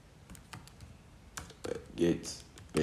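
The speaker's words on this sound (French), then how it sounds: "mais si on tape la commande" Someone types a command on a computer keyboard in quick, uneven bursts of close clicking keystrokes, with faint speech in the background.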